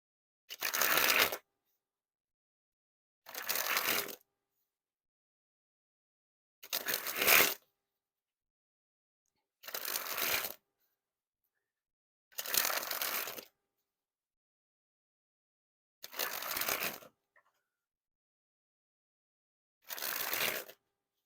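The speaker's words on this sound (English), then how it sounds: "And first, we'll spring the cards." A deck of Bicycle zombie-themed playing cards is sprung from hand to hand. Seven separate quick riffling bursts, each lasting about a second, are spaced evenly with silence between them and no talk.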